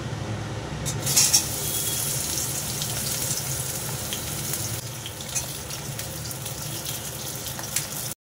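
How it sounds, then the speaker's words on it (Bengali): Eggplant pieces fry in oil in a pan, giving a steady, close hiss of sizzling throughout with no talking. "বেগুনগুলোকে একটু ভালো করে ভেজে নেব"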